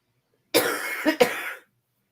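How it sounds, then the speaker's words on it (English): A single close, harsh allergy cough breaks out in two quick bursts, loud against an otherwise silent background. "Sorry, allergy cough."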